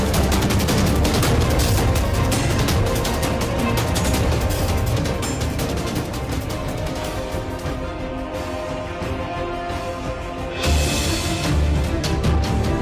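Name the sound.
gunfire in armed clash between TNI, police and KKB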